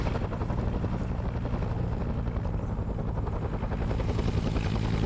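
Helicopter in a Vietnam war video game, a steady loud rotor thrum with a continuous rhythmic beat filling the whole moment, close and alone without talk.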